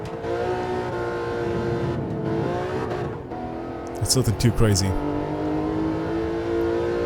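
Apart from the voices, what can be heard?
BMW M3 E36 engine driving on Nürburgring, video game Gran Turismo 7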